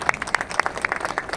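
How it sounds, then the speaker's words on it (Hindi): A crowd claps at an outdoor school event where students give a military training display, the claps arriving as a brief, sparse burst of distinct hand strikes rather than a dense roar. "एक जोर से ताली हो जाएगी"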